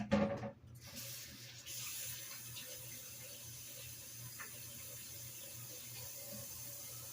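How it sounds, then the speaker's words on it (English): Hands being washed under a running kitchen tap, a soft, steady stream of water with a brief splashy start, heard faintly and without speech. "Now let me wash my hands."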